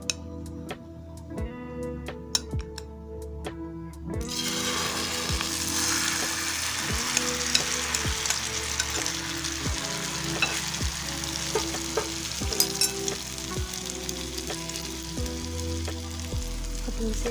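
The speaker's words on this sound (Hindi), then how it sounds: "हमने जो यहाँ पे मिक्सचर रेडी किया था अब हम इस पर पैन में डालेंगे इसे" Vegetable egg cutlet mixture sizzles steadily in an oiled pan after a quiet start, with a few sharp clicks and scrapes over a continuous close frying hiss.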